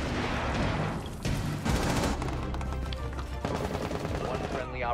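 Dense, rapid gunfire crackles almost without pause in a Rainbow Six Siege Crimson Heist match, mixing bursts and single shots, with a voice speaking briefly near the end.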